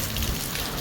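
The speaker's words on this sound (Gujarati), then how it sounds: "મોસમ ફૂલ ફૂલ વરસાદ ચાલુ છે" Heavy rain pours down in a dense, steady wash of noise, brief and unbroken, with no voices.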